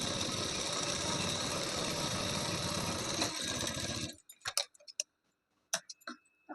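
A sewing machine runs a continuous fast stitch along a blouse seam for about four seconds, then stops, followed by a few sparse clicks and handling sounds.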